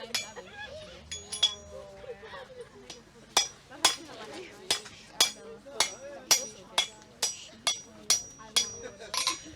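Sharp metallic hammer strikes ring out in a steady rhythm, about a dozen blows, on a hot cut chisel against metal at a medieval fair forge, with a few voices at the start.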